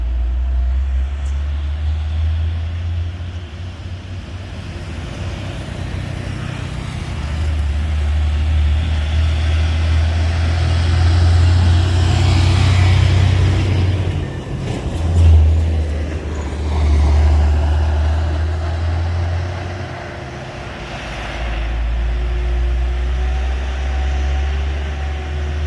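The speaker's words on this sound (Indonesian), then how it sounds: "ini ada 2 unit truk Hino" A convoy of Hino trucks rolls past with a steady, heavy low-frequency engine roar that swells and fades, a louder surge midway as one passes close, then continues at a distance.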